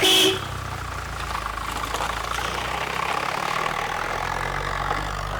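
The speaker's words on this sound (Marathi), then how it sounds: "त्यांच्या गाडीचा आवाज ओळखला नाही आपण." A car arrives outside a house and its engine keeps running at idle, a steady low rumble heard close by after a brief sharp sound at the start.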